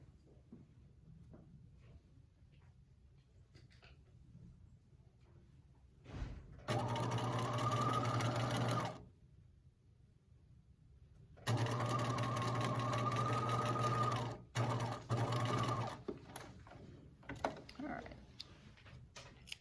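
A sewing machine stitching a seam on a draped garment, two bursts of fast rhythmic whirring, several seconds each, separated by quiet with faint handling noise, close and clear.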